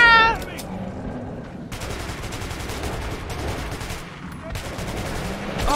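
Rapid, dense bursts of gunfire at monsters in the video game Metro ring out almost continuously and loud, with a player's voice briefly heard over the shooting.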